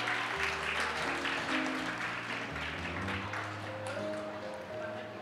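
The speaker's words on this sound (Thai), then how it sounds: "ขอเสียงปรบมือต้อนรับ" Guests at a Thai engagement ceremony applaud steadily and loudly throughout, with background music running under the clapping.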